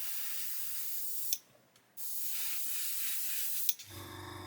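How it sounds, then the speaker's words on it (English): An airbrush spraying paint during a scale-model build of a 1/24 Spitfire Mk.IXc, two steady hissing bursts split by a short pause, then a brief puff as it is blown out before a low hum takes over. "So blow the airbrush out"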